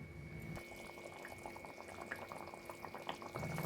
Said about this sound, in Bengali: ঝোল ফুটবে লো ফ্লেমে।